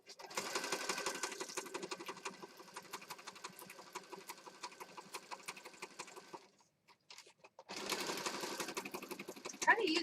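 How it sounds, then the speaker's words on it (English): A sewing machine stitches around the edge of a junk journal in fast, even bursts of needle clatter, stopping briefly before starting again. "so we're just going to stitch around here."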